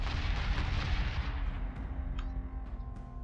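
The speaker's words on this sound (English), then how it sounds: "Missiles incoming!" Incoming missiles striking in the space strategy game Battlestar Galactica Deadlock, a dense wall of heavy booming impacts that rolls on continuously, then thins into a few sharper distant hits.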